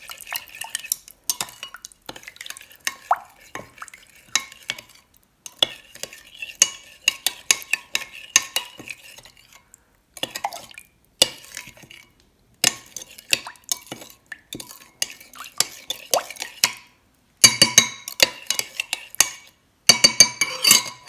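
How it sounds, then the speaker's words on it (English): Pasta being stirred with soy sauce in a wide round Le Creuset 6¾-quart Dutch oven: scraping, clinking strokes come in irregular bursts with brief pauses, close and fairly loud, with no talking. "And then you just mix it all together."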